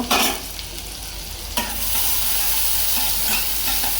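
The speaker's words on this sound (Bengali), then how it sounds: "বাঁধাকপি ভাজি বসাইলাম" Shredded cabbage fries in a pan with loud, steady sizzling, punctuated by a couple of sharp stirring scrapes near the start and occasional soft spatula knocks.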